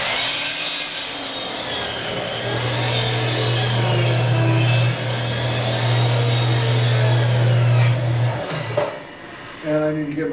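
A chop saw with a dull blade cuts through aspen wood, one long, loud, steady whine and grind lasting several seconds, then spinning down at the end.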